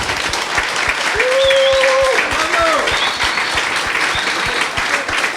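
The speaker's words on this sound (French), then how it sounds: "Des applaudissements amplement mérités" An audience claps loudly at a business launch event, dense steady applause mixed with a rhythmic thumping beat and a voice speaking over it.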